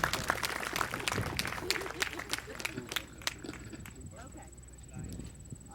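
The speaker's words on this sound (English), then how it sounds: "How about a nice round of applause for David Henry?" Audience applause for a handler at the 2007 USBCHA sheepdog finals, a dense patter of clapping that fades out midway, with an announcer talking over it.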